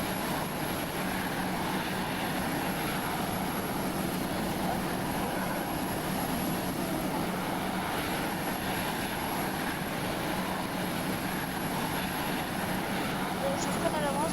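A propeller airplane engine in a flight video game drones loudly and steadily throughout, a continuous hum with no breaks.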